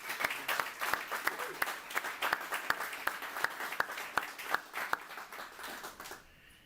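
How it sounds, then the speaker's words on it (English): A round of applause fills an awards gala for a business hall of fame in Roanoke, with dense, steady clapping from a sizable audience and sharp individual claps standing out, tapering off near the end. "One more round of applause"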